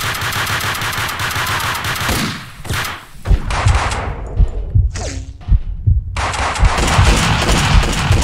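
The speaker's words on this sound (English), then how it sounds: "who the fuck shooting me, bro?" Gunfire rattles in Max Payne 2: loud, rapid automatic bursts pound close by, then break off into a short lull of scattered single shots and impacts before the heavy firing resumes.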